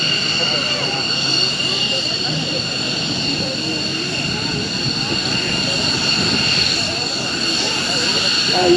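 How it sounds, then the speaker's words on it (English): An F-15 fighter jet taxiing at an airshow makes a steady, loud turbine roar and whine that fills the air, with an announcer speaking over the PA. "here comes the F-15"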